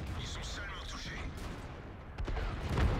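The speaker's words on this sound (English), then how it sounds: "Look at this, I'm using my first artillery barrage" An artillery barrage in the World of Tanks Steel Hunt game mode, with rumbling explosions and blasts building toward a heavier boom near the end, heard under steady game noise.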